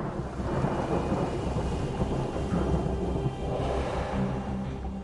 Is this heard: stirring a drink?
no